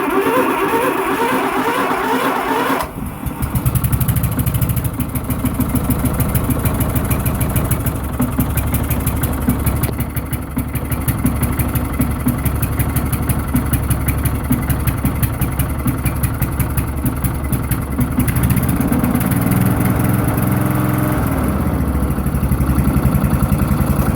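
A Lawnflite 604 tractor mower engine fires up from a cold start with the choke in and settles into a steady, loud idle, running continuously up close with a slight wavering in pitch and no talking.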